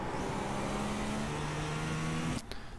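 Race car engine in iRacing, a GTP prototype at Spa-Francorchamps, droning steadily as it pulls under throttle, with a sustained tonal whine that rises slightly before cutting off abruptly near the end.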